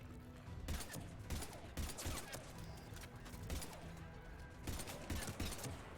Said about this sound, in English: James, why are you shooting a barricade?